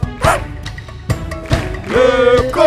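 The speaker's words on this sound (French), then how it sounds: "Le petit chien, petit chien," A dog barking sound in a French children's song, heard as several short yips and barks over music, fairly loud and close.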